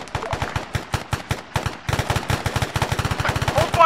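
Rapid bursts of automatic gunfire from an Arma 3 firefight, sharp repeated shots in uneven volleys that grow denser and louder toward the end, with no talk over them.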